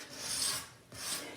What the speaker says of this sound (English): You can sand in here if you want, or with your power sander again.